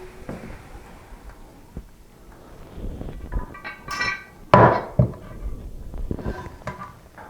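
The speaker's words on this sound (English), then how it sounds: "And now we can set the tank on top of the bowl." A porcelain toilet tank is lowered onto the bowl during an installation, with scattered knocks and scrapes and then a loud hard clunk as the ceramic pieces meet, followed by lighter rattles.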